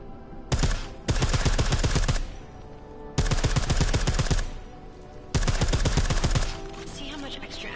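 A suppressed gun in a video game fires in three long sustained bursts of rapid shots, loud and close, separated by short gaps of quieter background.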